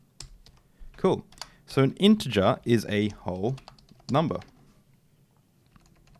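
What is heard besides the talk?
typing on a computer keyboard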